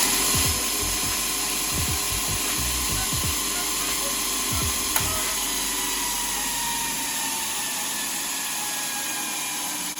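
An LA915 linishing attachment runs up under power, its belt spinning with a steady, loud mechanical whir and whine, with a few ticking clicks near the start that then settle into a continuous drone.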